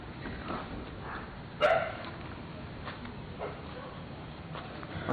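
A dog barks suddenly at night, a few sharp barks standing out over a steady background hiss, one louder bark early on and fainter ones later, with no speech over them.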